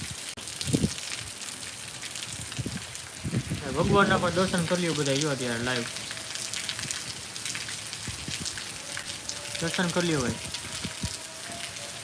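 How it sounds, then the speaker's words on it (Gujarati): Heavy rain pours steadily over a waterlogged groundnut field in Khambhalia taluka, Dwarka district, a dense hiss filling the whole stretch while someone talks loudly over it in two bursts. "જોરદાર વરસાદ ચાલુ છે મિત્રો"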